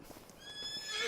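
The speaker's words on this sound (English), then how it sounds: "So this is my horse" A horse in a video game gives a clear, rising whinny over soft clip-clop hooves, close and moderately loud and building toward the end, with a voice speaking under it.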